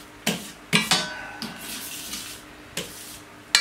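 A metal scraper scrapes across a hot plancha griddle with several sharp, distinct clanking scrapes at irregular intervals, close and fairly loud over a low sizzling background.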